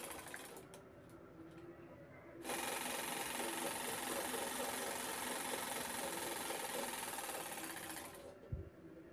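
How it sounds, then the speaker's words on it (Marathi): Sewing machine stitching a potli bag, starting after a short pause and running as a steady, close, rapid mechanical whir for several seconds before stopping, followed by a small click. "तर शिलाई करून घेते तिथे"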